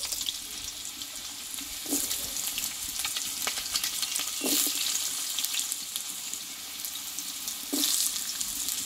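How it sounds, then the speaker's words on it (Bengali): Cut potatoes sizzle and crackle steadily in hot oil over fried tempering spices, with occasional scraping stirs against the pan. No one speaks. "আলুটাকে আগে একটু কষিয়ে নেবো বন্ধুরা।"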